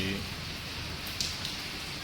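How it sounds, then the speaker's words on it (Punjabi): Heavy rain pours down steadily during a monsoon downpour under dark clouds in Punjab, a dense, even wash of noise that holds at a constant level throughout, with no voices heard. "ਮੀਂਹ ਪੈ ਰਿਹਾ ਪੂਰਾ ਤੇ"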